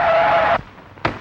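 An old 1930s car skids to a sudden stop under hard braking, giving one loud, sustained tire screech that cuts off abruptly, followed a moment later by a short second burst.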